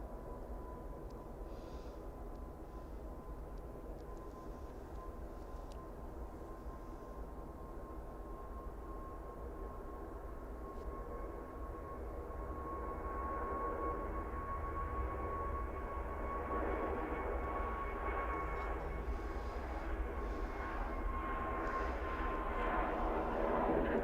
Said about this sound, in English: Right, taking off then, we've got a TUI 737 MAX 8 going to London.